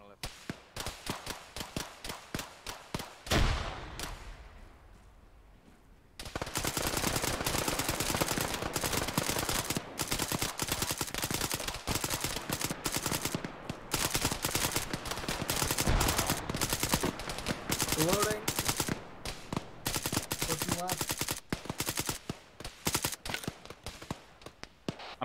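Gunfire in the military shooter ArmA 3 during a British SBS operation: a loud rapid burst, a short lull, then long dense stretches of automatic fire and individual shots, close and sustained, with radio-style voices talking over it.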